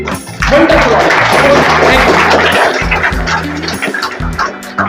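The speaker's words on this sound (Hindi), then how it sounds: "मैं चाहता हूँ अपने लिए तालियां बजाएं पूरी तरीके से।" An outdoor crowd at a political gathering bursts into applause, a dense clatter of clapping that swells quickly and holds loud and close for several seconds before thinning out.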